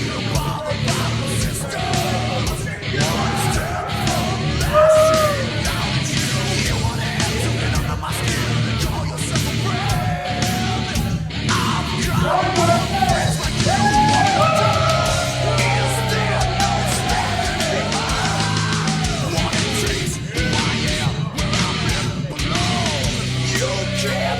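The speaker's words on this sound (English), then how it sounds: "The crowd is so loud, shouting in support of the killer, Kevin Roberts." A wrestling crowd at the SPW Trade Wars 2025 event roars and yells loudly and continuously, with dense overlapping shouts and cheers.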